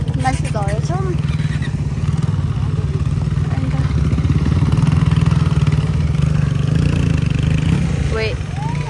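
A motorcycle engine idles steadily nearby, its low, even putter running throughout while people talk over it.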